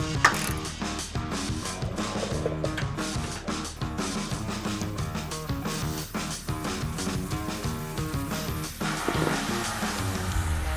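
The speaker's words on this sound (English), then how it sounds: "And then we'll go ahead and torque that to 9 foot-pounds." A torque wrench tightens the oil filter housing bolt on a Toyota 4Runner, with a steady run of close ratcheting clicks lasting about eleven seconds, loud and even, with no talking.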